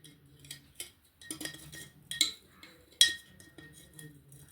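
Metal spoon clinking against a glass while sugar is stirred into butterfly pea juice: several sharp, bright taps and short clatters at uneven intervals, close and fairly quiet, with no talking.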